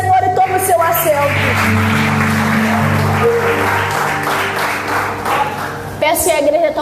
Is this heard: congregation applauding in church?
yes